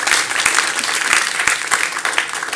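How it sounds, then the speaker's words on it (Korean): A church congregation applauds three helpers with steady, dense clapping that fills the room evenly, a few sharper individual claps standing out close by. "세 분에게 박수."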